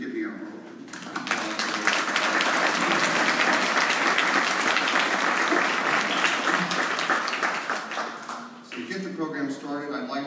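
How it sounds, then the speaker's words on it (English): A large congress audience at the World Leather Congress breaks into loud, sustained applause that swells after a quiet start and holds steady before fading, after which a speaker begins talking. "please give me a round of applause."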